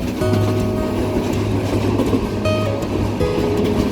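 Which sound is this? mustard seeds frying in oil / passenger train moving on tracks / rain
passenger train moving on tracks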